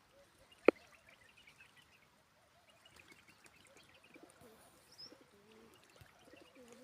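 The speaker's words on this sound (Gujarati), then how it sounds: "ભાઈ કબૂતર બિચારા પાણી પીએ." A pigeon drinking water gives soft, faint cooing calls outdoors, with one sharp click early on and quiet low murmurs scattered through the rest.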